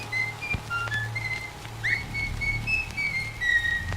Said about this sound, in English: you can hear a mysterious whistling sound.